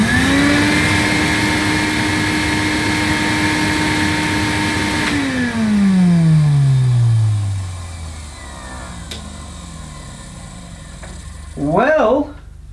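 A 1975 Hoover Hooverette vacuum cleaner motor drones steadily at close range, then winds down and falls away, followed by a brief burst of voices near the end.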